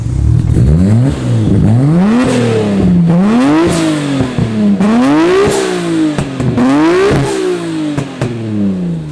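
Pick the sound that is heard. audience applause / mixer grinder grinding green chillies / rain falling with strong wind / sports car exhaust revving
sports car exhaust revving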